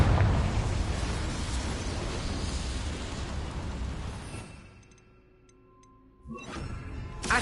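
Blasting spell from Hogwarts Legacy set off in a cramped mine, a loud, broad roaring explosion that rumbles on for several seconds before fading to near quiet, then a second sharp burst near the end.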